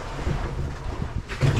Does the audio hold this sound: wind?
yes